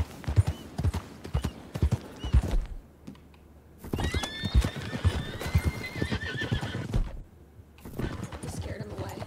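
Horses in Red Dead Redemption II, close hooves clip-clopping in uneven bursts and a clear, drawn-out whinny in the middle, with a brief quiet gap and someone speaking between the sounds.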